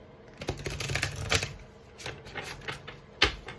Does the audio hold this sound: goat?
no